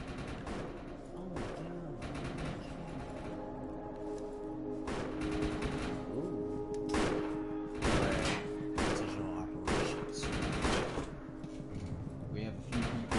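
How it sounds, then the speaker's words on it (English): Gunfire in the online shooter Defiance 2050 as several players shoot each other, with repeated bursts and rapid volleys cutting in and out over a continuous game soundscape, and a voice talking through it. "We have a few people shooting each other doing this."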